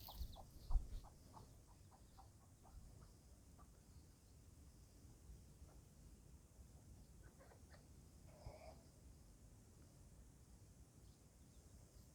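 A mother hen and her chicks cluck softly while feeding on a farm, with scattered short calls near the start and a few more later, all faint over a quiet background.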